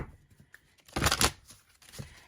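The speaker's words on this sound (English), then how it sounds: "So I just kind of shuffle these up real good." Tarot cards being shuffled close by: soft papery riffles and slides, with a brief louder flurry in the middle.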